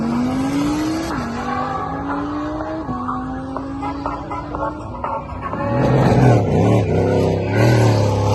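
Supercars and tuner cars, including a 1200 hp Huracán, rev and accelerate hard while leaving a car show, engine tones rising and shifting, then a louder close pass with deep exhaust roar.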